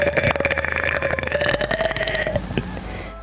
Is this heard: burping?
yes